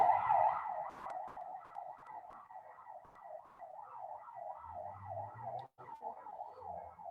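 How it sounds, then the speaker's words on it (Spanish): A wailing ambulance siren rises and falls in a steady, rapid cycle, loud and close throughout, with a low rumble of traffic underneath. "que pase la ambulancia, por favor"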